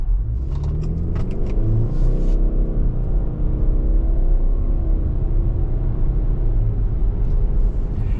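A 2023 Subaru Ascent Touring with a CVT pulls away from a stop, its engine rising in a smooth, loud, close rumble that climbs steadily in pitch, with a brief light jingle of keys early on.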